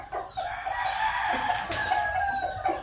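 A sweater gamefowl rooster from Red Game Farm crows once, fairly near and clear, over a quiet farmyard background.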